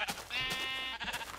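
Sheep bleating in the video game Minecraft, one drawn-out nasal bleat followed by a shorter one, close and clear with no talk over it.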